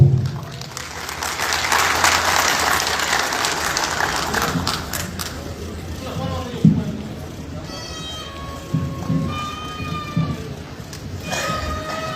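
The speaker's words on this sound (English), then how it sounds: "please welcome with a big round of applause the Nimso Kirung troupe, the Karbi cultural troupe" Crowd applause greets the Nimso Kirung Karbi cultural troupe at a Karbi Anglong Day festival, loud and dense clapping over the first half before thinning out, with a voice speaking over the tail.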